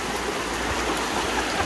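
A swollen, risen river rushes past in a steady, broadband roar of flowing water, continuous and fairly close, with no voices heard.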